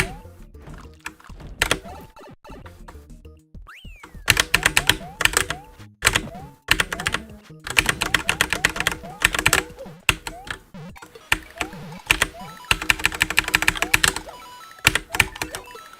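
Loud button and keyboard clicks come in quick, irregular bursts during a casual speedrun practice of New Super Mario Bros. on the DS, layered over steady, busy game music.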